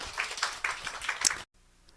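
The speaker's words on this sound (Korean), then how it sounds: "우리 하나님께 박수 올려드려요" A church congregation claps together in a dense patter of applause during a Sunday service, then it cuts off abruptly into near silence.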